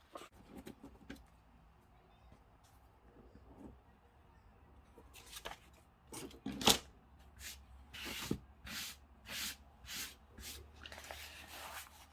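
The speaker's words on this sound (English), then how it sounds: "And just trim it all up all the way around." Paper being trimmed all the way around the edges of a junk journal page; quiet rubbing and shuffling at first, then a run of louder, brisk crisp cutting strokes, close by with no talk.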